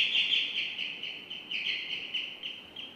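A high, repeating electronic chirp, bird-like and steady, pulses in quick bursts for several seconds with no talking.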